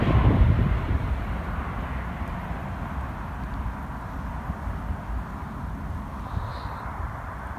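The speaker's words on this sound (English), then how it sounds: "As you see, there is a plane coming in," A steady, broad roar of an airplane landing nearby in Tromsø rumbles continuously, loudest at the start and then holding at a constant drone.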